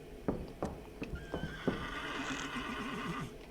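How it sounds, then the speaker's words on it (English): Hooves clop in a brisk series of thuds in the horror game Absum, then a horse neighs with a long, wavering whinny as the clip-clop continues beneath it. "I hear a horse."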